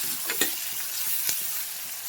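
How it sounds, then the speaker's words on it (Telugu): Tomatoes cooking with salt in a pan for a lentil soup: a loud, continuous sizzle with a few sharp scrapes of a spoon stirring, no voices. "ఇప్పుడు టమాటాలు కూడా వేసుకొని మెత్తగా ఉడికించుకోండి."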